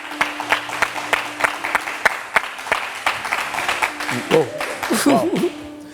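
An audience on the WAM show claps in a brisk, uneven burst of applause. A voice rises over the clapping toward the end.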